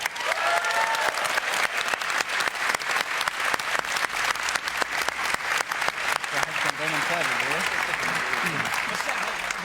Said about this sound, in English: can we get a round of applause for Anna?